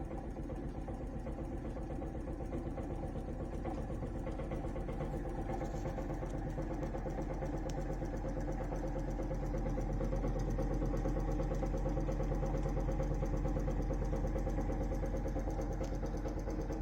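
A homemade magnetic switching motor runs as its supply voltage is raised to 20 volts, giving a steady, even mechanical hum with a dense rapid pulsing that grows slightly stronger toward the end.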